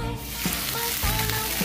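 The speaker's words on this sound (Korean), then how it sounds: "이걸 한번 볶아줄게요." Cleaned mussels stir-fry in cooking oil in a pan, giving a loud, continuous close-up sizzle with small crackles and stirring scrapes throughout.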